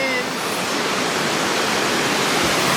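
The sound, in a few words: waterfall cascading on a North Carolina hike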